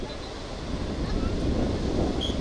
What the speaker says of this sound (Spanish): Este era el ambiente en la playa Costa del Sol en el departamento de La Paz.